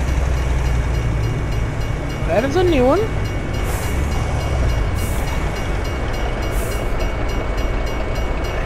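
Freight train passing in the American Truck Simulator video game, a continuous low rumble of rolling cars with a rising whistle-like tone partway through, under a man's brief spoken remark.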